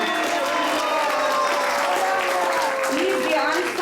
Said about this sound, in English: So please give him the biggest round of applause